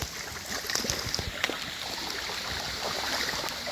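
Rainwater running off a field in two spots into a creek during a rainy day, a steady broad rushing trickle with scattered splashes and clicks, close by and fairly quiet, with no talking.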